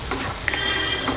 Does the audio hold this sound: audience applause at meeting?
no